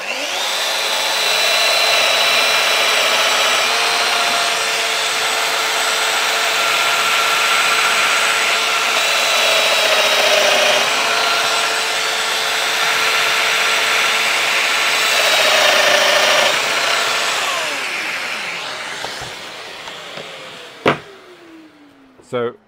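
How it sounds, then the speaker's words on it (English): A Festool Domino 700 joiner whines steadily at close range while making a 30 mm deep plunge cut in wood, loud and sustained for about twenty seconds before spinning down, followed by a couple of sharp clicks. "I'm on the tight setting on the 700 domino. And we'll go in here. I'm doing a 30 millimeter deep plunge."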